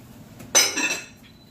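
A single bright clink of a glass casserole lid from Visions cookware being handled, one sharp ringing contact that fades quickly in a quiet room.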